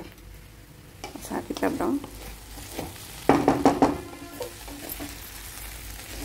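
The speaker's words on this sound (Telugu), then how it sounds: "సో ఇలా ఫ్రై అవుతుంది." Okra curry frying in a pan gives a soft, steady sizzle, with two bursts of stirring and scraping close by, while a person talks over it.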